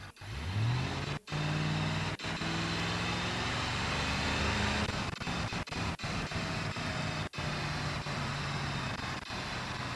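Car engine from a driving video game played through a phone app used as a controller, revving continuously across the stretch with rising and falling pitch sweeps and a few brief sharp cutouts, steady and loud with no talk.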